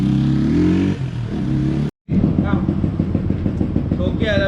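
Motorcycle with a freshly tuned exhaust revving hard in loud, rising bursts, cutting out briefly before a throaty, pulsing idle and more revs resume close to the microphone.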